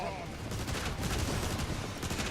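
Photon Burst Rifle fire in Transformers: War for Cybertron, dense rapid energy shots at steady loudness in close-range combat.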